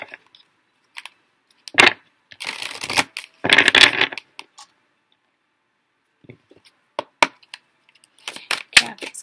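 Ganesha oracle cards being shuffled, with bursts of riffling and flicking that come and go, a short pause, then quicker card clicks toward the end, close and fairly quiet.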